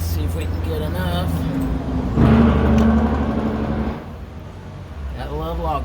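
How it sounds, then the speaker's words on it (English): A log truck drives past during an outdoor rear strut install on a Toyota MR2, swelling into a loud rumble for a couple of seconds before fading away, with brief voice sounds near the start and end. "Gotta love log trucks."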